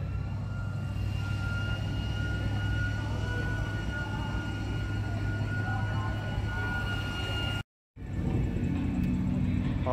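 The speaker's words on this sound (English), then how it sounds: "Dyno roller spinning up." Car tires spin on a dyno roller with a steady, droning mechanical whine and rumble that holds constant for several seconds, cuts out briefly near the end and then resumes, loud and close.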